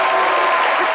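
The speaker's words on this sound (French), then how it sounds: "applaudissent en même temps" An audience at a televised gala applauds, a dense, loud burst of clapping from many hands filling the short moment.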